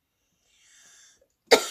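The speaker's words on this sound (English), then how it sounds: "I still have a cough from when I was unwell" A single sharp cough from a person who is still getting over an illness, loud and close, coming after a faint stretch of soft rustling while crafting a fabric cover.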